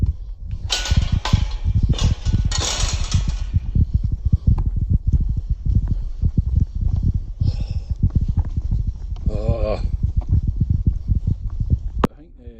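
Cows in a hillside field walk and scuffle close by, making a continuous stream of heavy hoof thuds, trampling and rustling with a few sharper knocks.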